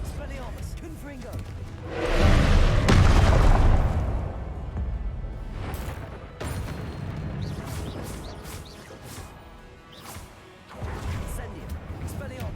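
Spell explosions from the video game Hogwarts Legacy, a loud burst of crashing booms that swells and fades over a few seconds, followed by softer repeated impacts and whooshes within continuous game sound.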